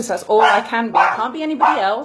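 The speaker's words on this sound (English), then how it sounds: "Sorry about the dogs there." Dogs bark indoors in a home, a few quick yipping barks mixed under a person speaking close to the microphone, the barking and voice overlapping throughout.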